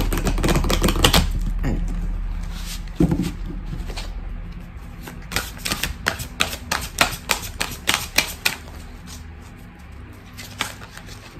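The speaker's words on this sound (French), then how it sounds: "on va prendre une carte du tarot magique de la sorcière blanche" White-witch magic tarot cards are shuffled, drawn and set down in a run of crisp taps, flicks and slaps, busier near the end, with one short word spoken early on.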